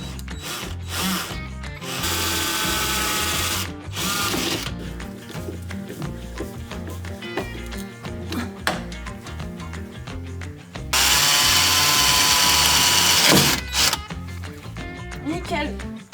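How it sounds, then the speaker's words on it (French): A power drill bores holes into the body of a Citroën 2CV, two long loud whining bursts with shorter ratcheting and tool handling between them, and someone talking at times. "je vais devoir percer des trous à des endroits spécifiques"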